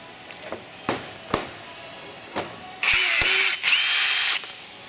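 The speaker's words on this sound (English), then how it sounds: "you can always take your drill to help open up the hole so that it will fit properly" A power drill opens up rivet holes during an airplane kit build, with a few sharp taps and clicks first, then two loud, close bursts of whirring drilling, each lasting about a second.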